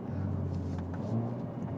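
A Hyundai Veloster N's engine drones steadily from inside the car, a close, continuous low rumble with a slight rise in pitch near the end, no voices over it.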